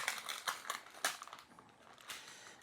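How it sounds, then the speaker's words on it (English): A knife cuts through maple-glazed apple fritter bread, giving soft, crisp crunches and crackles in quick uneven bursts, close but faint, with no talking. "So let's just cut right through here"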